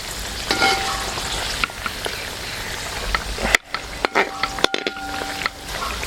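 Prawns sizzling in slightly underheated oil in a pan for Kerala prawn pickle, a steady crackling fry broken by sharp clatters and scrapes as the pieces are stirred and turned over.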